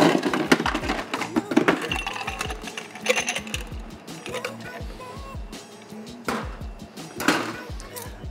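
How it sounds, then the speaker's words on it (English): Ice cubes tumble and clatter into a cocktail glass for a Whiskey Smash, a run of sharp cracks and knocks across several seconds, close up, with some handling noise alongside. "I'm gonna grab my glass and fill it with ice."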